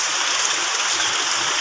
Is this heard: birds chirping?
no